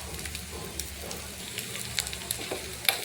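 Ginger and garlic fry in a pan with a soft, close crackling sizzle, dotted with quick sharp pops and light stirring scrapes.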